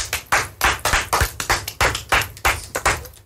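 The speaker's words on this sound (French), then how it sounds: "On l'applaudit bien fort." Close, evenly spaced claps ring out about every third of a second, a single small group applauding a guest at a school radio broadcast.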